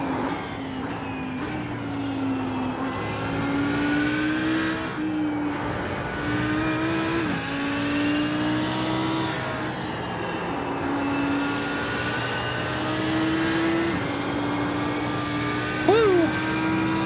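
An Audi race car in the iRacing sim, driven hard with a steady high engine drone and repeated shifts in pitch, loud and continuous throughout.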